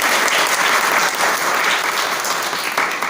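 A crowd at a Brahma Kumaris Shivjayanti gathering in Shahabad Markanda gives loud, sustained applause for a bhajan singer, a thick, continuous patter of many hands lasting around three seconds.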